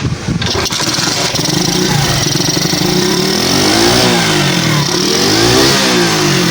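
A motorcycle with a starting and misfiring problem after a water wash or rain starts up and revs, its engine note rising and falling in loud, close bursts before holding at high revs.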